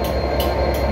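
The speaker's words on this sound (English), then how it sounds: "we have the Class 67 diesel locomotive" A Class 67 diesel locomotive idles at London Victoria station with a loud, steady low engine throb and faint rhythmic rail clicks.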